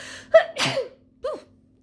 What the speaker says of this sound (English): oop, I got sneeze.